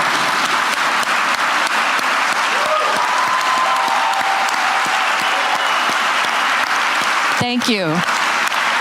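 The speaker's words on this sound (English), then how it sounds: "We'd like to give you a round of applause." A gala audience applauds first responders with sustained, dense clapping from a large crowd, loud and steady, while a voice speaks briefly near the end.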